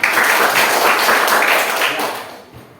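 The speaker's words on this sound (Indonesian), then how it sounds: "Tepuk tangan untuk kelompok 3" A classroom of students applauds a student group, a dense, loud patter of many hands for a couple of seconds before tapering off, with faint voices mixed in.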